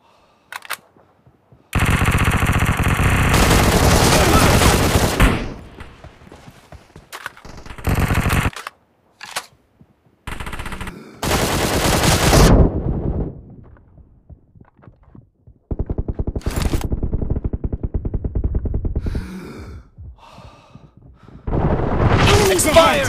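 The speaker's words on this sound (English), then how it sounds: "Enemies fire." Bursts of rapid automatic gunfire from enemies in a shooter video game, firing in several loud, close volleys separated by short gaps, mixed with game announcer callouts.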